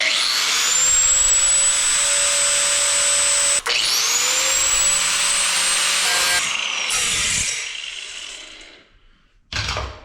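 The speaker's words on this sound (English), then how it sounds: "I'll get my cutting wheel off and I'll cut this" A cutting wheel grinds through a metal part resting on plywood, a loud, sustained high-pitched whine that breaks briefly, resumes, then winds down and fades before a short final burst.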